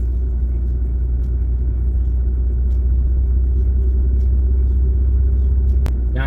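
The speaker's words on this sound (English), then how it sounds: "I'm just going to gradually accelerate" A car accelerating gradually along a wide open road, heard from inside as a steady low engine and road rumble, loud and constant without speech.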